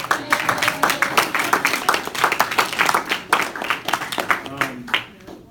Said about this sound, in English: say thank you and clap your hands for them